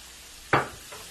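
Mint hits a pan of cooked garlic with a sudden close sizzle and stir, a single sharp burst that fades quickly, followed by a faint second scrape over low background hiss.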